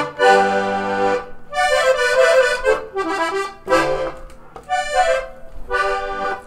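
An accordion played with its bellows opened gives full, reedy chords and short melodic phrases in bursts separated by brief pauses, loud and close.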